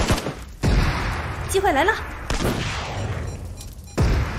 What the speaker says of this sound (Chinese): 鸣枪声